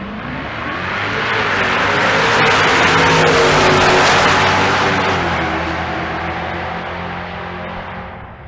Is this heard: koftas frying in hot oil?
no